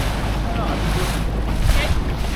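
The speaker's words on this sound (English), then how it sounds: "Oh, much more waves here." Sea waves slosh and wash around a sailboat off the British Virgin Islands, loud and continuous with heavy wind buffeting the microphone and a few faint voices underneath.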